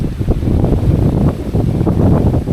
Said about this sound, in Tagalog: Mahambalos yung hangin mga kaparmers.